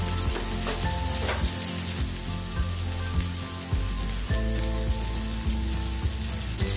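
Grated cauliflower rice frying in a pan, a constant loud sizzle with regular soft scraping knocks as it is stirred over and over.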